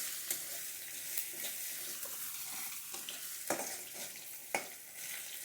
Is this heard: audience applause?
no